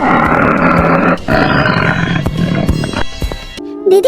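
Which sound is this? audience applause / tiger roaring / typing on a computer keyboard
tiger roaring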